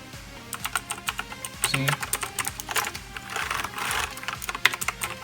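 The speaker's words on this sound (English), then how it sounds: "So if you want to hear the typing sound, I love this keyboard." Rapid clicky typing on a computer keyboard, dense irregular bursts of sharp key clacks up close, with a brief spoken word.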